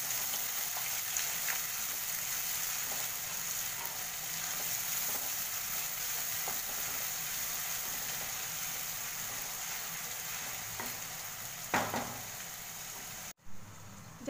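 Two large chopped onions sizzling in a hot pan for a vegetable curry, a steady close frying hiss running throughout, with a couple of faint clinks near the end.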